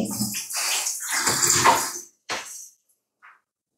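Running tap water splashes over a spoon being washed for about two seconds, then stops, followed by a couple of brief clattering knocks.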